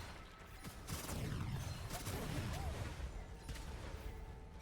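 Rapid bursts of cannon fire from the shooter game Gunfire Reborn, a dense stretch of thuds and crackling impacts that swells after the first second and holds, fairly faint overall.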